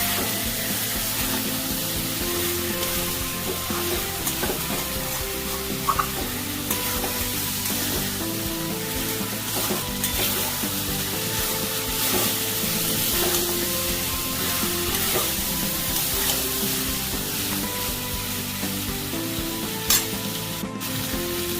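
Mutton masala sautéing in a hot pan, a steady, close sizzle and crackle of frying with occasional stirring scrapes, continuous throughout with no voices.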